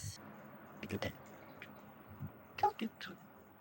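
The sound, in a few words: straining a cold cocktail drink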